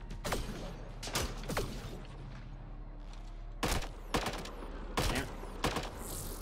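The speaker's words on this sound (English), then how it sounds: "Yeah, this gun fires a little differently than the other ones." Gunfire in the video game Mass Effect Andromeda, with sharp weapon shots coming in uneven clusters amid mechanical clanks and whooshes over a steady background hum.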